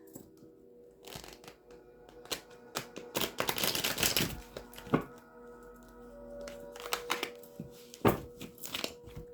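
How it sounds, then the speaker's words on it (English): A deck of tarot cards is shuffled in crisp, rapid riffling bursts with short pauses, the card snaps sounding close and clattery. "let me get you these shuffles in"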